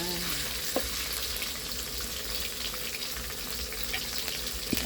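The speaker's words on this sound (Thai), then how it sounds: "แล้วก็ผัดให้ออกเครื่องแกงเราหอมๆนะคะ" Steady loud sizzling of curry paste stir-frying in a hot pan, with occasional scraping stirs, continuous throughout and close up.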